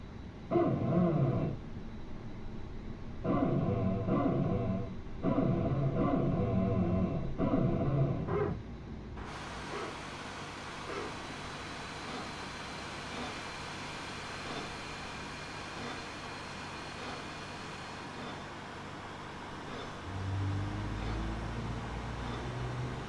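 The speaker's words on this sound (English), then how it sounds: "Starting engine 2." Airbus A320 engine 2 spooling up in Microsoft Flight Simulator, a steady broadband whine and rumble. It follows a patch of rhythmic mechanical pulsing, then holds as a continuous loud hiss, with a low rise near the end.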